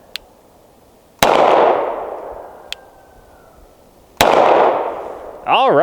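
Two loud CZ P-07 pistol shots, each a sharp crack trailing into a long echoing decay, with a few faint clicks between them and a brief voice at the end.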